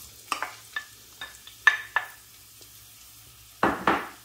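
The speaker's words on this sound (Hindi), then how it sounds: "ऑयल चूँकि गर्म हो चुका है अब मैं इसमें डाल देती हूँ प्याज।" Chopped onions going into hot oil for a masoor dal masala, heard as sharp sizzling bursts and light utensil scrapes, with a louder crackling surge near the end. No talking.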